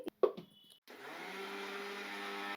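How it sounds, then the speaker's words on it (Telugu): A mixie grinder blends semolina with two cardamom pods. A few clicks and short knocks come first, then the motor starts with a steady, loud, high whirring drone that holds to the end, with no talking. "దీనిలో 2 యాలకులు వేసుకొని దీన్నిప్పుడు మెత్తగా మిక్సీ పట్టుకోవాలండి"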